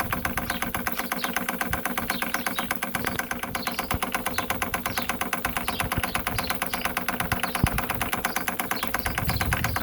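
A pre-WW2 Doll of Nuremberg stationary steam engine runs with a fast, even chuffing and mechanical clatter, close and steady from start to finish, with a few louder knocks standing out.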